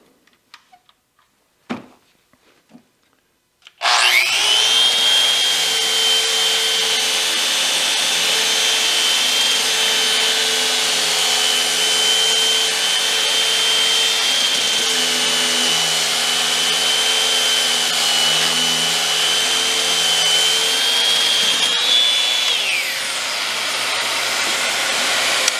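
An electric wood sander with a dust extractor attached starts abruptly after a few quiet clicks, then runs as a loud, steady high whine with a droning hum underneath, easing off slightly near the end.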